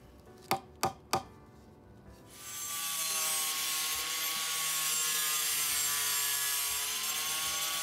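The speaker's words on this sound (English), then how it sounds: "this is also an improper use of a power tool, but I had to trim down my bamboo paneling" A power tool trims bamboo fence paneling for a Japanese-style fence: three sharp knocks up front, then a steady loud high-pitched whine of the tool cutting through the bamboo that holds for several seconds.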